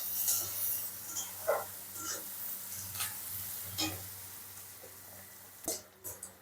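Whole cracked cardamom pods and sugar grains dropped into hot oil give a soft, quiet sizzle with a few brief spatters and stirring taps.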